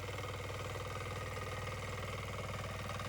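A weeding machine's engine runs steadily in a farm field, a continuous mid-pitched idle-like drone with an even rhythmic throb, close and constant throughout with no talk.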